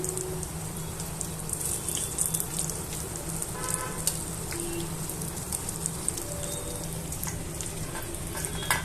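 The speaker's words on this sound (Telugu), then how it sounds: "ఇలా వేసుకొని వేయించేసుకుందామండి" Mirchi bajji, batter-coated chillies, frying in hot oil: a steady, close sizzle and bubbling crackle with small pops and faint stirring clinks throughout.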